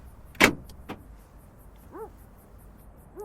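Car door locks engaging: a sharp loud mechanical clunk followed by a softer second click, then faint chirping tones in a quiet cabin.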